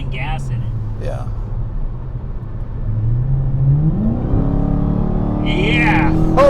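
A Dodge Hellcat engine revs hard and accelerates, its note climbing steadily in pitch and growing louder, heard from inside the car while people talk over it.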